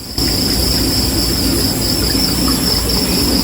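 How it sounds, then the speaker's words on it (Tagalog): Crickets chirping at night around a cabin resort in Bamban, Tarlac, a steady dense trill with a high whine that keeps going under a constant wash of outdoor ambience, loud and near, no voices. "Kuliglig lang maririnig nyo guys."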